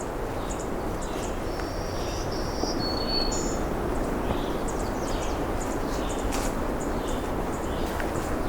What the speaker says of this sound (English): Some ticking black-throated green warblers.